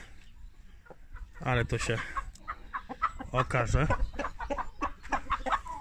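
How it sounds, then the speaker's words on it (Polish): A young rooster in a backyard chicken coop crows and clucks in short bursts, fairly close, interleaved with someone talking over it. "a tu znowu młody kogut mi szaleje"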